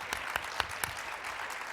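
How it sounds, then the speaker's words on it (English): Applause from a panel audience at a 2020 summit, a soft, brief patter of hands with a few sharper claps standing out, fairly quiet and distant. "big applause"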